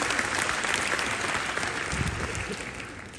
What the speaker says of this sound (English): Round of applause for my beautiful Charlie.